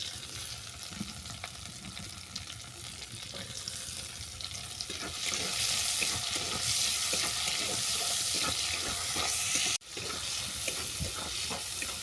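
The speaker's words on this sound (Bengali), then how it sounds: "দিচ্ছি কোঁচানো পেঁয়াজ" Sliced onion fries in hot oil over tempered whole spices in a pan, a steady close crackling sizzle that grows louder and fuller partway through, with a brief clatter near the end.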